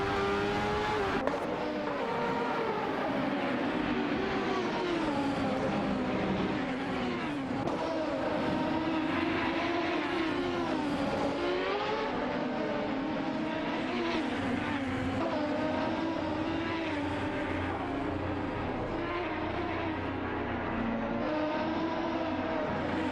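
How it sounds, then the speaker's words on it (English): Race car engines roar and rev continuously as cars speed along a track, loud, dense overlapping engine whine with rising and falling pitch and occasional tire noise throughout. "Buckle up and let's rev those engine. Racing car dashing away."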